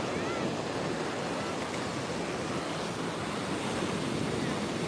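Sea waves at Malpe Beach roll in as a steady, loud broadband surf wash that fills the whole stretch, with wind buffeting the microphone and no clear break between swells.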